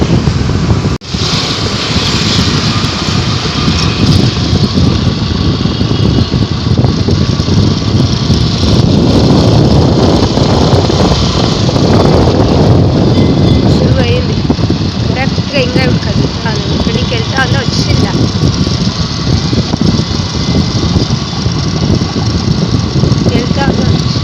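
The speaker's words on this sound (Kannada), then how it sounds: "ಇವಾಗ ನಂದಿಗೆ ಗಾಡಿ ಎತ್ಕೊಂಡು ಹೋಗ್ತಾ ಇದ್ದೀವಿ" A vehicle engine runs steadily and loudly throughout while riding on the road to Nandi for the Nandi jatre festival, a continuous drone with rumbling road noise and no breaks.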